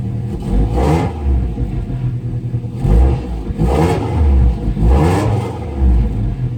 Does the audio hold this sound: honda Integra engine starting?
yes